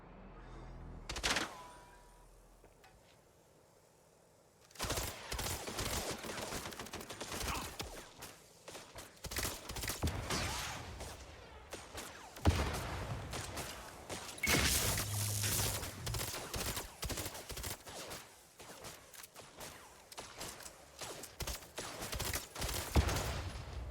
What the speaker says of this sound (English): Stop getting shot at, sir.